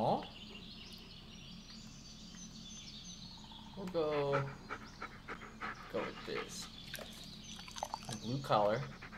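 A dog panting in the Blair Witch video game: quiet, rhythmic breathy panting under intermittent talk from a player, with faint birdsong in the forest ambience.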